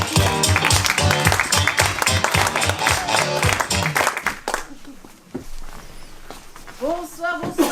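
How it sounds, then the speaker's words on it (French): A comedy club audience claps in a loud, rhythmic burst that fades after about four seconds, then footsteps and scattered claps follow, and a person begins speaking near the end. "je vous demande d'applaudir notre première humoriste"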